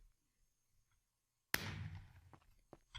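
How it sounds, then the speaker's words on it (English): A Minecraft firework rocket with a burst-shape effect explodes in a sudden loud crack after near silence, followed by a fizzing crackle that fades, with a couple of smaller pops after it. "adding a feather will give it a burst explosion effect instead of a circle shape"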